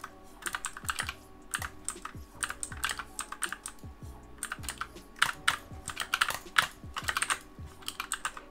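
Quiet, close typing on a gaming keyboard, with irregular bursts of clicky keystrokes and occasional deeper space bar presses, no voices.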